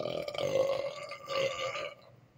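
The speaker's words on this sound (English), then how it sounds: "I've been waiting for a good burp." A long, deep, voiced burp rolls out loud and close for about two seconds before trailing off, with nobody speaking over it.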